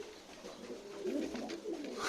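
Pigeons coo in soft, rolling, throaty phrases close by, a steady low murmur running unbroken with no voices.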